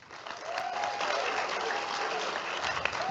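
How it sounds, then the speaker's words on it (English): Audience at a disability film challenge award show gives a steady round of applause, dense clapping with a faint whoop or two over a roomy crowd wash. "how about a huge round of applause for all of our partners"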